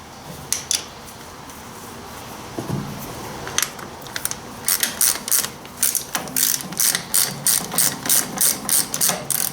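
A ratchet wrench works a bolt loose on a Ford 800 tractor, starting with scattered clicks and then settling into a steady run of close, rhythmic ratcheting strokes that grow louder.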